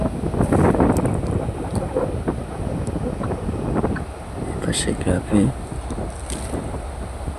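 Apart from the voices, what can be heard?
strong wind at the sea shore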